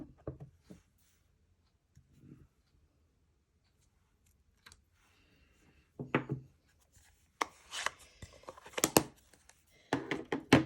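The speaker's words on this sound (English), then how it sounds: "I'm going to stamp one of the pots" A rubber stamp with a pottery design is pressed onto paper in copper ink during card making, giving a few soft, scattered thunks and taps with quiet handling rustles between them.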